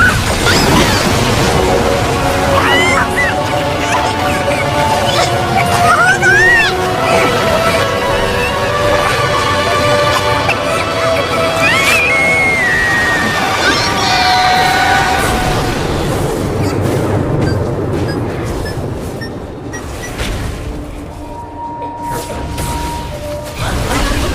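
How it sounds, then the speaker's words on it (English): Turret destroyed in League of Legends: Wild Rift, with loud crashing, smashing impacts and booms layered over dense, continuous battle effects and whooshes. "Your team has destroyed a turret."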